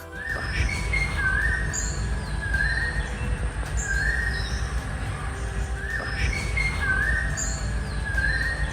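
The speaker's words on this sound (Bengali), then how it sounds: "আছে শুধু নির্জনতা আর পাখির ডাক" Birds call repeatedly on a quiet morning at the Kumarakom backwaters in Kerala, with a rising whistled call recurring every second or so over a steady low rumble of background noise.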